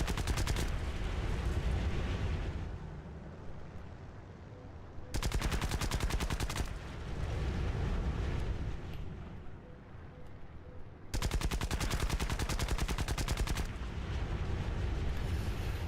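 Aircraft guns strafe ground targets in War Thunder with sustained, dense machine-gun fire in long, loud bursts that break off and resume, over a constant engine roar.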